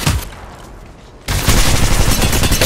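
Gunfire in Apex Legends played on an iPhone 13 Pro Max: a quieter stretch then a sudden loud burst of rapid automatic shots, dense and continuous to the end.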